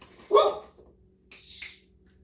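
A dog barks indoors in a kitchen, one sharp close bark, then after a pause a softer, double-pulsed bark, with quiet room tone between them.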